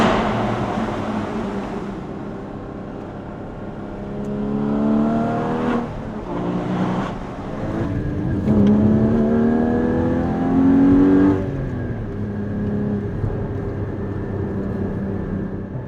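A Porsche 981 engine revs hard inside a tunnel, its note rising and falling through several loud pulls that echo off the walls, with a steady roar between bursts.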